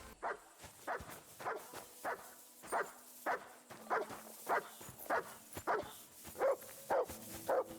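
A dog barks repeatedly in Kingdom Come: Deliverance 2, a steady series of about a dozen sharp barks at a medium distance over a quiet background.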